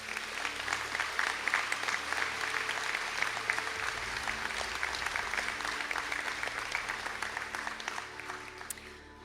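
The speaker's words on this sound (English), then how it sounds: "to stand for a round of applause" Sustained applause from a large audience at a Sligo college conferring ceremony, greeting Master's graduates in education; steady, dense clapping that holds for the whole stretch, fairly distant in a big hall.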